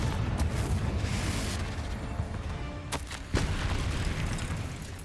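A fiery blast from a cast Confringo spell in the video game Hogwarts Legacy, a sustained rumbling roar with sharp cracks midway, loud and close throughout.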